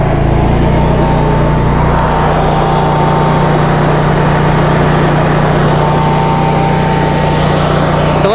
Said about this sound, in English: this is a 20 kilowatt generator